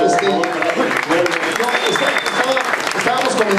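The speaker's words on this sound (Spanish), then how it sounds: "Un aplauso." Audience applause at a live performance at Mexico's Fonoteca Nacional, a steady dense wash of clapping with some voices mixed in, close and loud throughout.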